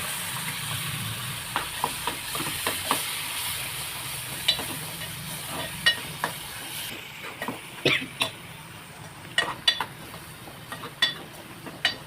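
Ground tomato, chili, ginger and garlic masala frying in oil gives a continuous hissing sizzle, broken by frequent sharp spatters and pops that grow busier toward the end, close up and with no speech.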